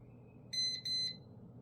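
Two short, high electronic beeps in quick succession from an electrical tester, clear and close against a quiet background.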